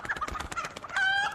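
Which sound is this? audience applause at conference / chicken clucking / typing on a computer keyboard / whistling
chicken clucking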